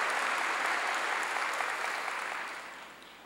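A broad wash of church congregation applause during a sermon, steady and fairly loud, gradually tapering off toward the end.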